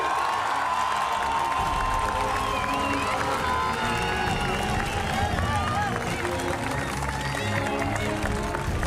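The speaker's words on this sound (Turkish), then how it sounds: "alkışlarınızla Nefise geliyor." Studio audience on the Survivor All Star 2024 set cheering and clapping as a contestant is announced, a steady dense roar of crowd noise with whoops and babble lasting throughout, loud and close.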